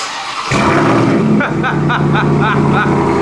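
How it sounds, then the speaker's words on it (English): A RAM TRX pickup's engine with a new aftermarket exhaust idles and then climbs into a series of sharp revs, loud and close, with each blip rising and falling in quick succession. "go ahead and rev it"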